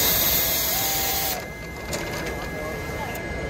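A JUKI MS-1261A double needle chainstitch industrial sewing machine runs at speed on a trade show floor, giving a steady high-pitched whirring drone that shifts slightly partway through, with busy hall noise underneath.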